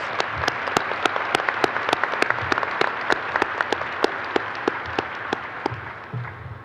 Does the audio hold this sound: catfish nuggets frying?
no